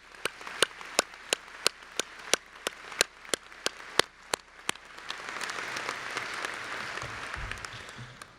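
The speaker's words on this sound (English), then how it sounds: "Let's give all of them a round of applause." Audience applause at a veterinary medicine white coat ceremony, beginning as a series of sharp, separate claps and swelling into a fuller, sustained round of clapping.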